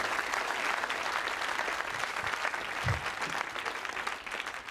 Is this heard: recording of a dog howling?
no